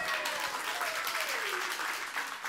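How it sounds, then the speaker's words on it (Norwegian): A Norwegian studio audience applauds on a talk show, with steady dense clapping that fills the whole stretch at an even, moderate level and no break. "applaus for Aschehoug"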